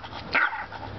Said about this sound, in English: but he's barking at me